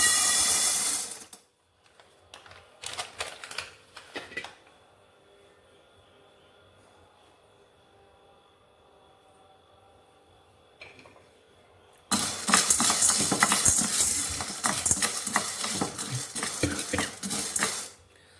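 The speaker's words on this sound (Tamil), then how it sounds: "லைட்டாக மணம் வர வரைக்கும் வறுத்தா போதும்." Sorghum grains dry-roasted and stirred in a pan: a brief clatter of grains against metal, then a long near-silent stretch, then a louder continuous scraping rattle of stirring to the end, with no talk.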